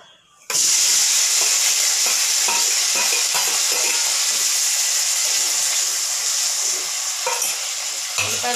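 Onions fry in hot oil in a kadai, starting with a sudden loud sizzle that holds steady, with occasional stirring scrapes and pan knocks, close up and without speech.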